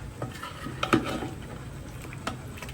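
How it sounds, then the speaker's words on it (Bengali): Cooked beef nihari with potatoes is stirred in a pot: soft, wet stirring with a couple of sharper spoon clinks against the metal, close and fairly quiet, with no talking. "একটু নেড়ে চেড়ে দেখাই"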